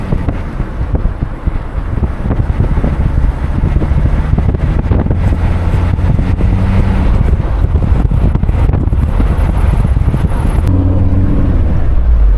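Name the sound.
cool breeze blowing, wind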